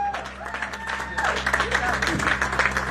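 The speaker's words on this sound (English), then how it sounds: "How about a round of applause for the entire staff of the Hrukus Hellraisers?" A crowd at the Hrukus Hellraisers annual Howlin Weekend event applauds the staff; the steady clapping swells and holds while a voice talks over it.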